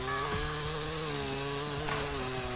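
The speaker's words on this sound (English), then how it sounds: "Oh, he's got my chainsaw." A chainsaw from the video game Rubber Royale drones steadily and loudly throughout, a continuous buzzing motor tone with no talk over it.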